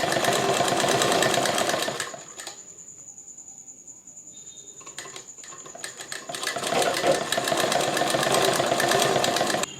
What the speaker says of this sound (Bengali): এইভাবে আমরা সেলাই করে নেব